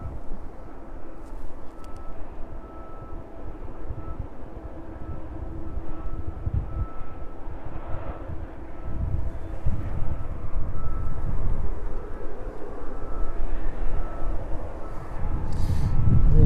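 A Cessna Citation jet arriving at East Midlands Airport gives a steady, rushing, low engine roar with some wind buffeting. The roar builds gradually and grows loudest near the end.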